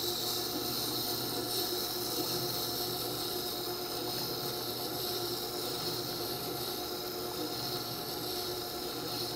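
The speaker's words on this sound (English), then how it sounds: "This wheel is grinding at about 220 grit" A Tormek sharpening wheel at roughly 220 grit grinds steady against metal in a woodworking shop, a continuous close rasping hiss with a low rotating hum beneath, unbroken and even throughout with no talk.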